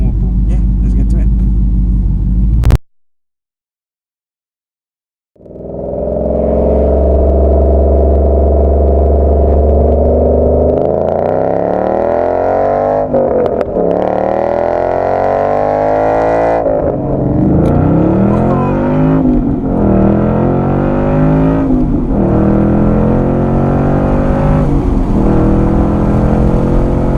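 A 5.0 car accelerates hard through a full-throttle pull, its loud engine note climbing steadily in pitch after a brief silence, then shifting through rising sweeps as gears change, close and continuous.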